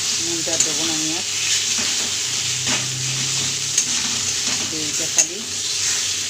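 Taro greens and a hilsa fish head frying with spices in a pan, a continuous close sizzle with scraping stir strokes and a couple of sharp utensil knocks, a short spoken phrase over it.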